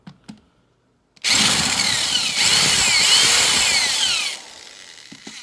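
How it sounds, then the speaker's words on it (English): A 28 gauge BPI roll crimping tool turns against a 24 gauge shotgun shell, giving a loud, steady grinding whir that lasts about three seconds, stops abruptly, and fades out with no talking. "This is a 28 gauge BPI roll crimping tool, and just roll it in maybe a 1/4 inch, just enough to hold a nitro card in the hole."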